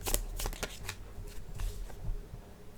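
Tarot cards are shuffled with quick riffling and soft flicking bursts, close and fairly quiet, continuing throughout.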